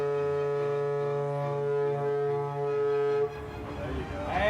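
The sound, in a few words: portable horn blowing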